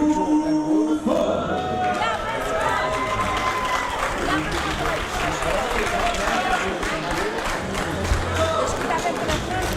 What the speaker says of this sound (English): hear a lot of cheering behind me